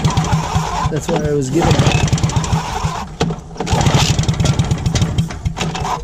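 A hovercraft engine, flooded, cranks loudly and sputters, catches briefly, then cranks again in steady rhythmic pulses as people talk over it close by.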